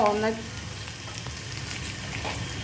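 Onions or filling for masala dosa sauté in a hot pan, giving a steady, close sizzle and frying hiss that holds level throughout, with a brief stir clatter at the start and no talk.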